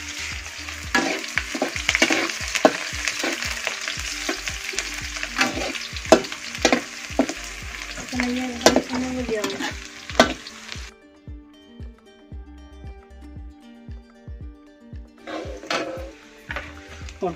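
Fenugreek, garlic and spices sizzle in very hot oil, loud and close, while a utensil stirs and clacks against the pan. The sizzle drops away for a few seconds and then returns.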